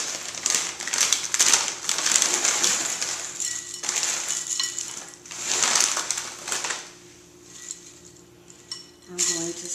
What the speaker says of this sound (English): start stirring these up with my spatula and trying to coat everything